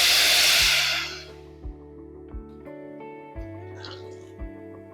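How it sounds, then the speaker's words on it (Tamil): Rasam poured into a hot pan gives a loud, close burst of sizzling that dies away within about a second, leaving faint bubbling and soft clinks. "இப்போ இந்த ரசத்தை இதில் ஊற்றிடலாம்"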